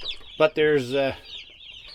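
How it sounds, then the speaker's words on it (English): Chickens in a farm pen holding about 250 birds give a burst of clucking and a drawn-out, wavering call, close and loud, with a brief spoken phrase over the start. "250 chickens in here."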